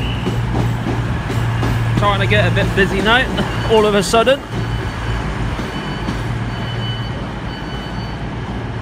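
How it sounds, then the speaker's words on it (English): A CrossCountry Class 220 Voyager diesel unit arrives at a platform at Exeter St David's, engines droning steadily, while someone talks close by and a brief two-tone horn sounds. "The cross-country service to Birmingham Street coming in now on platform 5"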